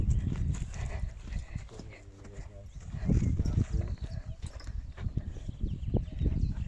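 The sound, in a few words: white horse walking, hooves clip-clopping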